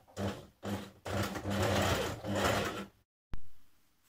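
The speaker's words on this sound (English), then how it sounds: "So you can stitch from the top so that it's invisible." Domestic sewing machine stitching down dress facings, several short whirring bursts of stitching and then a longer steady run, a brief stop and a final quick burst, close and alone.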